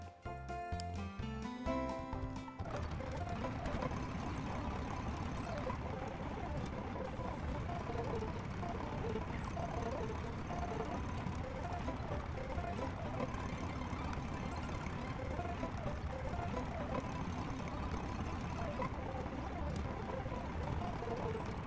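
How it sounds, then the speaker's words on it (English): In the video game Wobbly Life, a tractor engine drones continuously at moderate level, a steady mid-pitched motor hum running throughout after a brief musical intro, with no clear speech. "Jump in the tractor."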